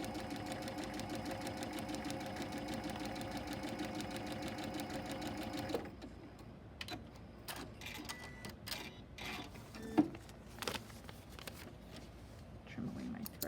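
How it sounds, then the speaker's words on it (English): A sewing machine stitches a Haunted House quilt block along a marked line, running in a steady rapid whir for several seconds before stopping, followed by scattered clicks and small handling sounds. "you want to make sure you're sewing right on the line"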